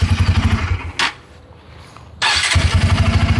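A Bajaj Pulsar N250 motorcycle with a double-barrel exhaust idles with a loud, rhythmic thump, cuts off briefly, then fires up again with a sharp crank and settles back into a steady, pulsing idle close by.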